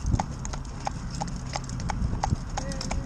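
Hooves of a traditional cob horse clip-clop in a steady walking rhythm on a road outside a supermarket, close and clear over low traffic rumble, with a faint voice in the background.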